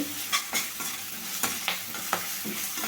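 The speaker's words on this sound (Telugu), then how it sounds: "కొంచెం అల్లం వెల్లుల్లి పేస్ట్ వేసుకొని ఇది కూడా పచ్చి స్మెల్ పోయిన దాకా వేయించుకుందామండి" Ginger garlic paste fries with onions in a pan for a cauliflower tomato curry, a steady sizzle broken by repeated scraping stirs of a spoon at an uneven rhythm, close by, with no talking.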